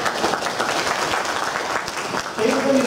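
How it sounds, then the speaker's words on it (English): A conference audience at a project management talk breaks into steady applause, a dense wash of clapping that continues throughout, with a voice starting to speak near the end. "Thank you very much. Round of applause."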